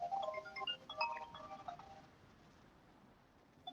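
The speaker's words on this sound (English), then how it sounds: "And as you can hear, that is my phone." A mobile phone rings with a bright electronic melody of short repeated tones, fairly faint, lasting about two seconds before fading into quiet background hiss.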